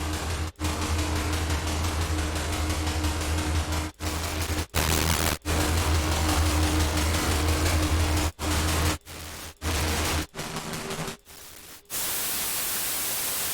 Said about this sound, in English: That just turns it into white noise.